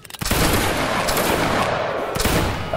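Musket volley in the Napoleonic Wars video game: one sharp collective crack opens a loud, sustained rolling fusillade of many muskets, with a second burst of shots breaking through near the end.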